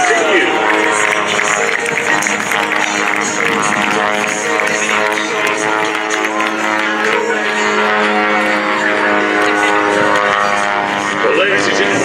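Redline Airshows aircraft roar through a pass at the Great Texas Airshow, a loud sustained propeller drone with shifting pitch that stays strong throughout, with a public-address announcer faintly heard over it.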